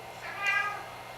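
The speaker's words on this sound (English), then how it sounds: "there's my dumb cat" A single cat meows once, close and clear, a short rising and falling call in a quiet room.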